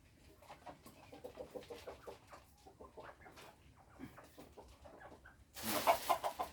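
Chickens cluck outdoors near a spot where rice is cooked over a blown fire, with a run of short, soft clucks at an uneven rhythm, faint and somewhat distant, ending in a louder burst of noise.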